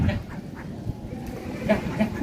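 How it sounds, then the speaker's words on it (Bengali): Ducks coming up out of a full village pond at day's end give a few short, nasal quacks near the end, over faint background noise and murmuring voices. "ডেকে ডেকে নিল পুকুর থেকে উঠে চলে এলো হাঁসগুলো"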